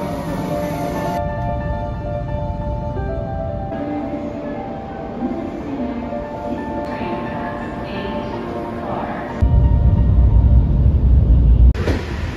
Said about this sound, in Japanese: 113系115系近郊型電車の走行集第2弾を作りました。